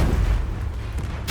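A Confringo blasting spell from Hogwarts Legacy bursts into a dense, roaring explosion that fills the clip at steady loudness, with a short fresh crack near the end and no voices.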